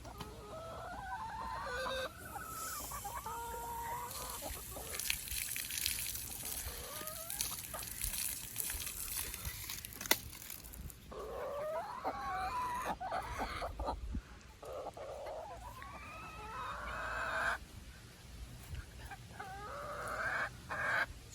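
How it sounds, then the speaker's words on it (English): A flock of chickens clucks and squawks continuously up close in a pen, with overlapping calls rising and falling and occasional louder cackles over a steady background hum. "Funny little chickens, huh?"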